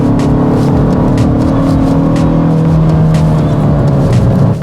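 A 2022 Kia Stinger GT-Line sliding its rear end out through a corner, the engine droning loud and steady from inside the car with a rising, strained tone.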